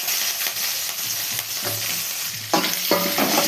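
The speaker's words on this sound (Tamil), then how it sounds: "அப்படியே நல்லா எடுத்து நல்லா வதக்கிடுச்சு. நல்லா அப்படியே வதக்கி விட்டுக்கணும்." Onion sautéing in hot oil with mustard seeds, green chilies and curry leaves for a potato kurma, a steady close sizzle with intermittent spatula stirring and scraping that grows louder near the end; no talking.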